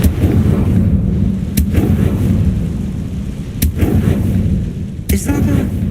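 A Confringo fire spell cast in the video game Hogwarts Legacy, heard as several sharp, loud blasts at irregular spacing over a dense, rumbling game soundscape.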